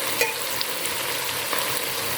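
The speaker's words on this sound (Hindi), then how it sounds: "मुसलसल हमें चमचा हिलाते रहना है, ताकि पेंदे के साथ हमारा मसाला ना लगे" Okra fries with spices in a pan while a spoon keeps stirring to stop the masala sticking, giving a steady close sizzle with faint scraping ticks throughout.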